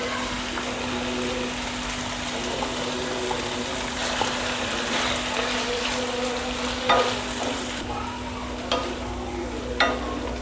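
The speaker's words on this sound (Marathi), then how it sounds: "आता मी भिजवलेलं पनीर टाकते" Soaked paneer fries in a pan with softened onion, tomato and capsicum for a paneer roll filling, a steady close sizzle with occasional spoon stirring clinks and scrapes, no talking.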